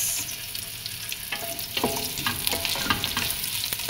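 Garlic and onion fry in a pan for Arabic rice, giving a close, steady sizzle with occasional stirring scrapes.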